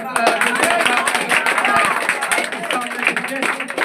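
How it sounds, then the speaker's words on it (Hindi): Loud applause from a crowd at a village institute's board-exam prize ceremony, a dense burst of clapping that runs the full few seconds beneath a speaking voice. "फर्स्ट के लिए जोरदार ताली स्वागत"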